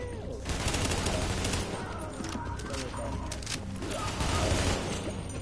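Bursts of automatic gunfire in a PS4 shooter crackle around the player in quick, uneven volleys over a dense noisy backdrop.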